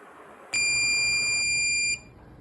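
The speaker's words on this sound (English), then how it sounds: "switch 3 is pressed, all LED is blinking in 1 second and buzzer on for 2 seconds" A buzzer on an RP2350 microcontroller board sounds one steady, shrill electronic tone for about a second and a half, loud and close over a faint background hiss.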